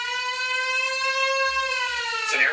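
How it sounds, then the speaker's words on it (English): An air raid siren holds a loud, steady wailing tone for a couple of seconds before abruptly dropping away at the end. "that's an air raid siren right there"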